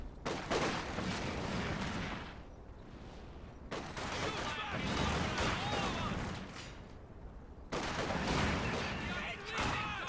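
Small arms and light machine gun fire crackle in bursts across a World War II strategy battle, dense rapid shots coming in waves with brief lulls between volleys.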